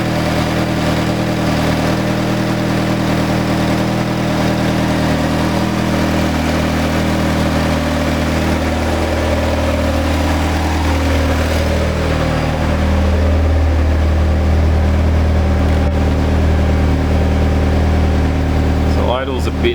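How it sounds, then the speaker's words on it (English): A freshly built forged Subaru BP turbo engine idles slightly high on its first start, a loud steady mechanical drone that holds throughout with a faint rise late on, while someone talks over it. "Idle's a bit high, probably because of the new throttle body."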